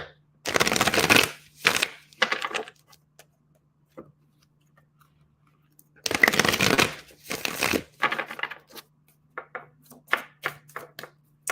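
Tarot cards are shuffled in two quick riffling bursts separated by near silence, close and crisp, followed by softer taps and flicks of cards being handled.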